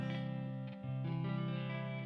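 An electric guitar with a roasted maple neck rings out in a clean, undistorted tone, a sustained chord that swells slightly and holds, close and alone.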